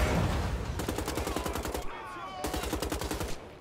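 Rapid automatic gunfire in Wolfenstein: The Old Blood, two sustained bursts of loud, evenly spaced shots separated by a short pause, with faint talk underneath.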